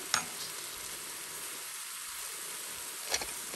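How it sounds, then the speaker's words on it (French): Sliced mushrooms sweat with salt inside a Cookeo multicooker pot for a quick mushroom velouté. There is a faint, even hiss of gentle sizzling, with two small clinks at the start and near the end. "on va laisser les champignons dégorger de leur eau de végétation"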